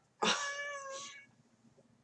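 A pet cat gives a single clear meow, rising then falling over about a second, fairly close and alone against a quiet room.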